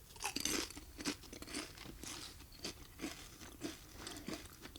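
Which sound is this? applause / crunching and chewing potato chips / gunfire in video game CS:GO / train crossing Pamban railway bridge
crunching and chewing potato chips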